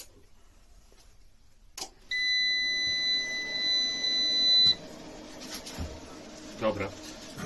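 A solar inverter gives one steady high electronic beep lasting about two and a half seconds as it powers on, with faint clicks and handling noise around it.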